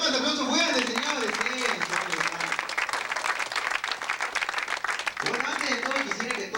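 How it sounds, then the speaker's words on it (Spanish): An audience applauding at a music event, sustained clapping from a crowd heard close, with voices and tonal sounds over it at the start and end. "Fuerte las palmas, aplausos fuertes, señores."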